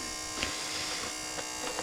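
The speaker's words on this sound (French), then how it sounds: "T'entends le ventilo comme il chante là?" A cooling fan running with a steady, buzzing whine full of harmonics, close and continuous, with faint ticks now and then.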